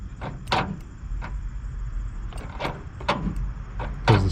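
Power door locks on a Mercedes Sprinter van cycle, producing a series of quick mechanical clunks and actuator thuds in irregular succession, close and fairly loud.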